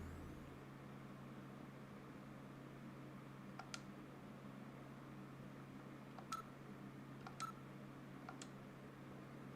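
Video phone dialing tones from the Sega CD game Snatcher: a few short, faint electronic beeps scattered over a steady low hum, with no talking.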